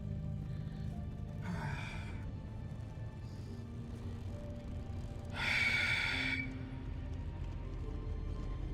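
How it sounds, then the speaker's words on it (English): Heavy, breathless huffs blown close into a microphone while playing Hollow Knight: Silksong, two loud breathy bursts over a steady low game background. "Is my breathing that loud, guys?"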